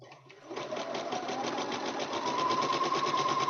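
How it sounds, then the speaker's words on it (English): A sewing machine stitches a bear paw quilt block, its rapid needle chatter starting after a brief pause and running steadily and close at an even, quickening pace with no one speaking over it. "Is my sewing machine too noisy?"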